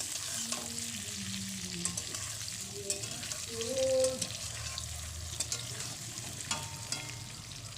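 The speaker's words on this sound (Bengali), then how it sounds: "এগুলো দিয়ে সুন্দরভাবে কয়েক মিনিট নাড়াচাড়া করে নেব, পেঁয়াজের সঙ্গে ভালো করে কষিয়ে নেব।" Potatoes and pointed gourd fry with onions in a pan, giving a low, steady sizzle while a utensil stirs them and scrapes now and then. A voice briefly talks over it.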